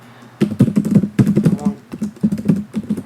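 Fast typing on a computer keyboard, with close, crisp keystrokes in quick clusters and brief pauses between bursts, and no voices.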